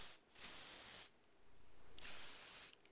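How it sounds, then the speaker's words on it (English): Two close hissing bursts of Teflon silicone lubricant sprayed from an aerosol can onto the white plastic parts of a gas meter, each about a second long, with a short pause between them. "we're just going to give it a light spray just on this area right here to try to coat some of these white plastic parts"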